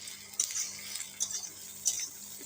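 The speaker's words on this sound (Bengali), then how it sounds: "নাড়াচাড়া করে কিন্তু ততক্ষণ নাড়াচাড়া করবো যতক্ষণ না কিন্তু পেঁয়াজগুলো লাল লাল হচ্ছে, ততক্ষণ ভাজবো" Chopped onion and garlic fry in a pan for a village-style chicken do piaza, with a faint, steady sizzle and three distinct scrapes of a utensil stirring against the metal.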